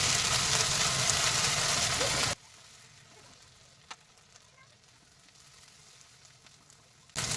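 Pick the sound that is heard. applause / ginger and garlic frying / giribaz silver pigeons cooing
ginger and garlic frying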